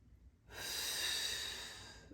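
A single long breath drawn steadily during a seated office stretching exercise for the back, close and clear, lasting over a second and a half after a brief quiet start.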